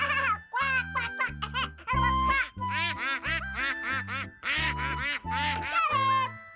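A voice imitates a duck, giving a rapid series of loud, close nasal quacks in short bursts with brief gaps between them.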